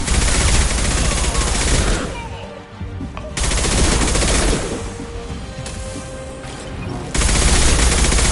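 Gunfire in the video game Mass Effect 2, loud sustained bursts of rapid automatic fire broken by short lulls, with a voice speaking faintly under the shooting.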